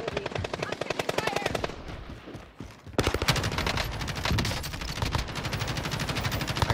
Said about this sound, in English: Gunfights over this way.